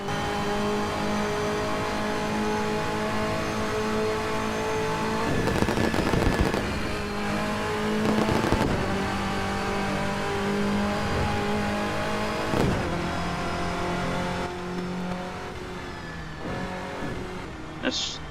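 Subaru BRZ engine in the racing game Project Trackday revving steadily with sustained harmonic drone, rising and falling through several sharp throttle bursts and gear changes, loud and continuous with no voices.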